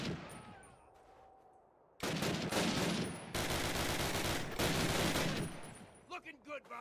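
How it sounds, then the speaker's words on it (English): Light machine gun fire in the World War II shooter Call of Duty: United Offensive: after a quieter stretch, dense sustained bursts roar loud and close for several seconds, then fade into scattered battle noise. "Why am I the only one who can shoot this damn LMG."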